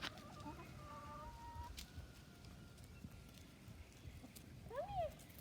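Several backyard chickens cluck quietly and intermittently at a distance over outdoor ambience in a garden, with a brief rising-and-falling call near the end.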